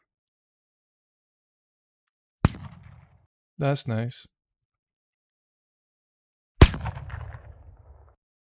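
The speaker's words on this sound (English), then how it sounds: "I'm going to just type in shotgun, because I want a mech sound." Two separate shotgun sound effects from a sound library, each a sharp, loud blast with a short decaying tail, spaced about four seconds apart, with a brief spoken remark between them.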